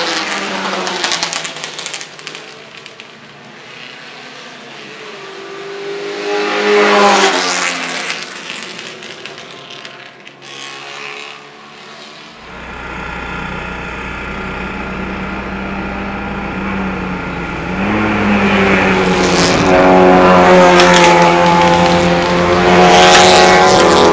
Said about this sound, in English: I think that's Bill Schwartz's red Porsche 356 heading up the hill there.